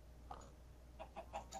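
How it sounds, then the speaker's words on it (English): Faint, short clucks of Minecraft chickens come in a few quick bursts over a low steady hum, quiet and somewhat distant. "These are definitely chickens."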